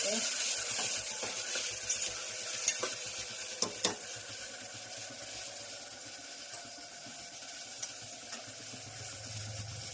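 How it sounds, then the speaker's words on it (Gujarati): Tomato tempering for undhiyu sizzles steadily in a pan while being stirred, with a few sharp scrapes and clinks of the spoon against the metal over a constant frying hiss. "સરસ મજાનો ટમેટાનો વઘાર થઈ ગયો"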